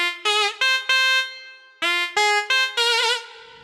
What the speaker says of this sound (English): the first impression was the voice called Nadaswaram, which has got a very special tone quality